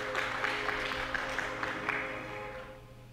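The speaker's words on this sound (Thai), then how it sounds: "ขอเสียงปรบมือให้ด้วยนะคะ" An audience claps steadily for nearly three seconds, a dense patter of many hands that tapers off at the end, with faint music holding underneath.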